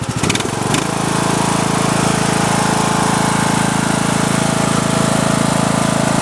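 A Sears LT1000 lawn tractor engine runs smoothly at a steady idle, a loud, even drone with a faint clatter at the very start, then unbroken mechanical hum with no talking.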